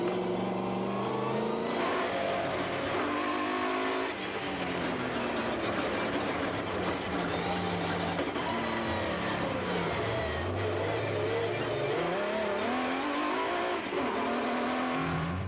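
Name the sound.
onboard Nissan and Ford Ranger race trucks engines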